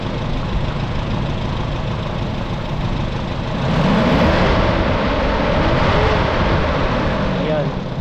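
A Toyota 5K car engine idles and runs smoothly, a steady dense mechanical drone up close that rises slightly as revs lift midway, with someone talking over it.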